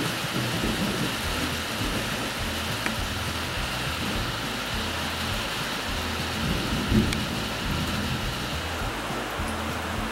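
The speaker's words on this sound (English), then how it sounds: "It's thunder." Thunder rumbles under steady rainfall during a storm, a continuous wash of rain on surfaces with low rolling thunder throughout, moderately faint and with no voices.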